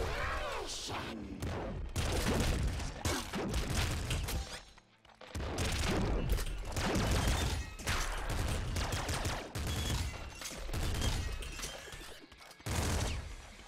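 Rapid, dense gunfire and crashing impacts from the Nuclear Throne game, loud and nearly continuous in bursts with one short lull partway through, under a bright layer of game effects.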